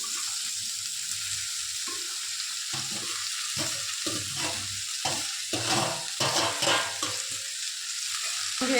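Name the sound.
onion leaves frying with roasted chillies in pan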